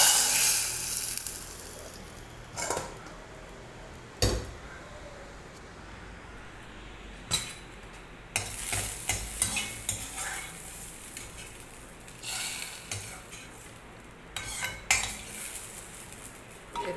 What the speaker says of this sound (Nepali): यसरी डढिरहेछ लसुन अदुवा।